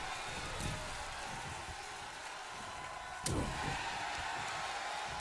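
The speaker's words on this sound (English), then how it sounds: "Slams him with authority." A wrestler's slam in the WWF Wrestling Challenge video game lands as one abrupt thud that jumps out of steady arena crowd noise, about a third of the way in from the end.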